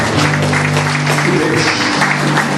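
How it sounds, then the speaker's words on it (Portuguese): A church congregation applauds loudly and continuously throughout a service, a dense wash of clapping with a voice speaking over it. "Pode aplaudir Jesus bem forte."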